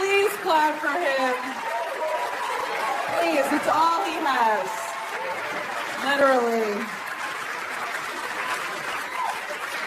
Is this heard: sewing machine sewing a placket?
no